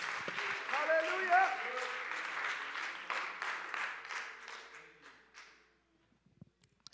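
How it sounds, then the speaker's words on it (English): A church congregation applauds during a Sunday service, a dense crowd of clapping that lasts several seconds, then thins and fades into silence with a few stray claps and voices mixed in. "Let's clap our hands to the Lord one more time as you're seated."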